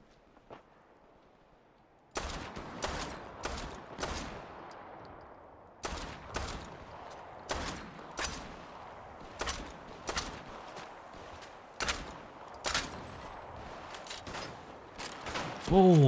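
Gunfire from enemies attacking in Fallout 4: after a quiet start, repeated loud bursts of shots go off in irregular volleys over a steady game background, with a louder blast at the end.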